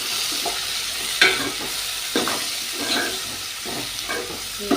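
Vegetables for a sour tomato, stuffed eggplant and gongura curry frying in a pan, a constant close sizzle with a few soft scraping stirs spaced through it and no voices.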